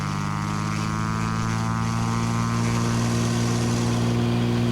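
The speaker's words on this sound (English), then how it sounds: "Kingman Skylane's departing on runway 11." Cessna T182T Turbo Skylane single-engine propeller plane, a 2013 model, accelerating down the runway for takeoff: a loud, steady engine and propeller drone with strong low harmonics, close up and continuous without talk.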